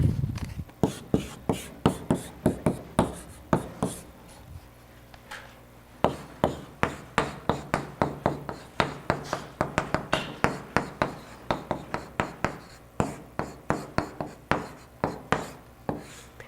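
Chalk or marker writing on a board during a machine learning lecture: a quick run of sharp tapping and scratching strokes in rhythmic bursts, close and fairly loud, with a short pause partway through.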